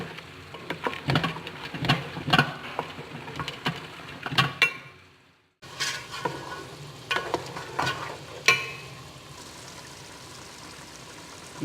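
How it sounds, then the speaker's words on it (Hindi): Tomato paste frying in a pan for a tomato and meat curry, a busy close sizzle with repeated spoon strokes and scrapes, a brief gap midway, then steady hissing that fades to a quieter simmer, without speech. "अभी हम टमाटर का पेस्ट डाल रहे हैं और उसको हम अच्छी तरह भून लेंगे।"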